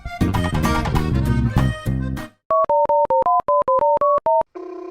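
A telephone call being placed, first a burst of loud busy clatter, then a clean repeating two-tone dial or ringback pattern in short even pulses, ending on a steady held tone; no one speaks.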